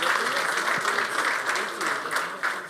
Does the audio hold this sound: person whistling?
no